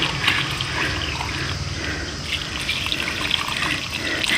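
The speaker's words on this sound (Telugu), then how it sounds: "వాటర్ వేసేస్తా." Water is poured onto potted plants in a home garden, a steady splashing gush running throughout at close range with no talk.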